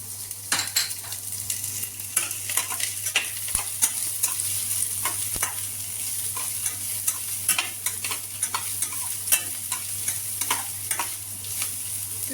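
Finely chopped cabbage and carrot frying for a sandwich filling, stirred with frequent quick spatula scrapes and taps against the pan over a steady sizzle, close and busy throughout.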